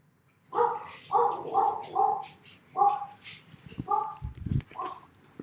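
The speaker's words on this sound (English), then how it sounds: "Close the doors so I don't got to listen to all the dog barks" Dogs bark in a rapid run of a half-dozen close, loud barks, followed by a few scattered yips and whimpers, with a faint low hum underneath.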